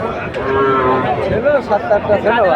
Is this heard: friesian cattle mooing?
yes